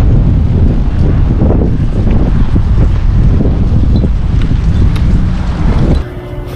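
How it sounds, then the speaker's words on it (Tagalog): Strong wind gusts roar outdoors in Edmonton, Alberta, buffeting the microphone in a loud, steady rush that cuts off abruptly near the end, leaving quieter background noise. "mahangin, lakas ng hangin"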